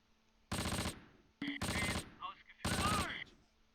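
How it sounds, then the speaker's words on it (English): Gunfire in the World War II strategy game Close Combat: three loud, close bursts of automatic weapon fire about a second apart, with some softer shots between them. "Guns firing."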